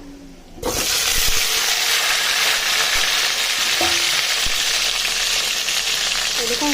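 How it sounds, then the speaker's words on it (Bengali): Boiled potatoes hit hot oil in a wok that was just used for frying onions and burst into a loud, steady sizzle and hiss, which continues unbroken after a brief quiet start, with no one speaking. "বেরেস্তা ভাজার তেলে কিন্তু আমি আলুটা খুব ভালোভাবে ভেজে নেবো"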